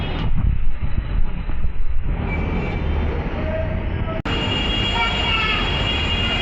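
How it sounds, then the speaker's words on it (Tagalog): A light rail train rumbles along steadily with wheel squeal and rail noise, then a sharp jolt and a louder, brighter hum as it keeps moving close by. "Punta kami LRT. Nasa LRT pa lang kami."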